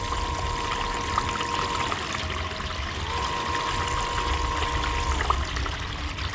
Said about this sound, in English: So you have full control of your water flow.